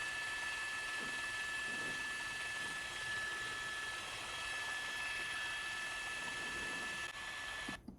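Steady, droning news helicopter noise with a high whine over a police chase runs throughout, fairly constant and unbroken, before cutting off abruptly at the end.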